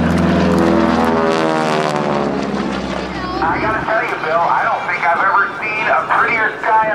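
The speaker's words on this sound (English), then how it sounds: "This beautiful Texan aircraft complete the roundhouse loop." A Texan propeller aircraft flies aerobatics at the 2008 NAS Oceana airshow, its loud, steady engine drone filling the air while an announcer talks over it.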